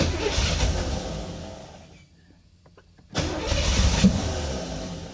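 A 1985 Chevy Corvette engine cranks and sputters roughly, dies into a near-silent pause with faint clicks, then catches again with a loud, uneven, struggling run close by.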